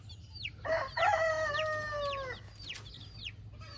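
Chicks in a brooder peep in quick, high, downward-sliding calls, several in a row, with one longer, fuller call standing out in the middle.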